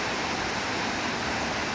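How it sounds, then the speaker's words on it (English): A waterfall on a spring canyon hike rushes in a steady, dense broadband wash, continuous and fairly close with no voices. "The water is flowing beautifully."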